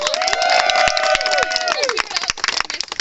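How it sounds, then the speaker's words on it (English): Crowd applause and cheering at an outdoor canvass launch for a New York congressional campaign, dense clapping with shouts over sustained voices near the start, thinning into scattered claps by the end. "Let's give him a round of applause."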